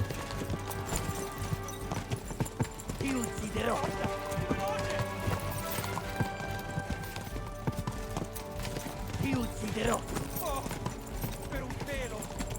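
Rhythmic hoofbeats clop steadily throughout, a galloping horse in the video game Kingdom Come: Deliverance II, heard with constant background noise and occasional voices.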